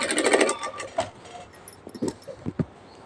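A domestic sewing machine running briefly with its stitch length set to 4 for long, loose stitches, giving a loud whirring burst at the start before fading into quieter mechanical clicks and knocks.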